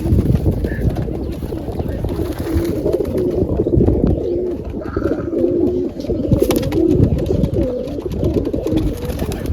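Many pigeons coo continuously and close at hand, their soft calls overlapping over a low rumbling background.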